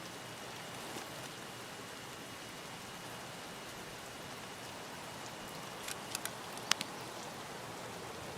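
Steady rain hisses evenly in the Escape from Tarkov game, a constant soft wash of drops with a few sharp ticks near the end and no speech.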